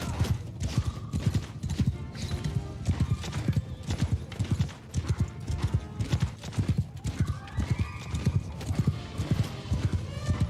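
Rapid rhythmic hoofbeats of a galloping horse in the fantasy video game Warhammer Old Realms, loud and close, with a brief whinny and game sound effects layered over the steady drumming.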